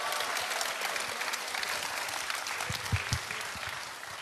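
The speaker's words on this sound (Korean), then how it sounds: "여러분 다시 한번 뜨거운 박수 부탁드리겠습니다" A concert audience applauds with a fairly soft, continuous wash of clapping, plus a few louder individual claps near the middle, before fading slightly at the end.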